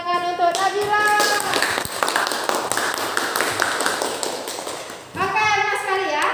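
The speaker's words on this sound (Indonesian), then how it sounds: "Kita beri tepuk tangan untuk Nabila." Students clap for a classmate in a classroom, a loud burst of hand claps filling most of the moment before a voice speaks at the end.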